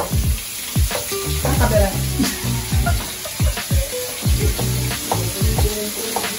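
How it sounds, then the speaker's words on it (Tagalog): Tomato simmering in a pan for escabeche, a loud spitting sizzle with bursts of bubbling and crackle, punctuated by stirring scrapes, while a voice briefly speaks. "Let the tomato simmer."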